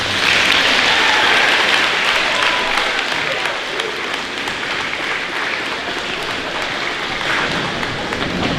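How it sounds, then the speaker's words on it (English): An audience at a middle school academic awards ceremony gives dense, sustained applause for student readers. The clapping stays loud and steady throughout. "one more big round of applause for all these readers"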